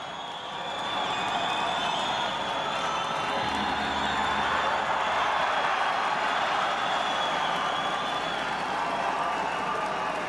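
A judo arena crowd at a world championship bout breaks into applause and cheering, a broad sustained roar of clapping and shouts that swells early and holds steady throughout.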